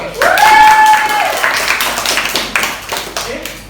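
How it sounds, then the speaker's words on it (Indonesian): Classroom clapping during a chemistry microteaching lesson, a short burst of hand claps from a small group, loud at first and then tapering off, with a tonal whistle-like sound near the start. "Tepuk tangan dulu Pak."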